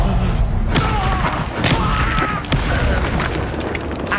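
Incendio fire spells cast in a wizarding video game, repeated booming thumps and whooshing bursts that land about every second over a dense, loud rumble.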